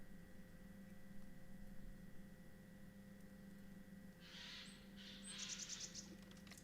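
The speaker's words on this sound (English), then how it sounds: "Jay's alarming." A Eurasian jay gives harsh alarm calls in a forest, two or three brief, fairly faint rasping bursts late in the clip over a low steady background hum.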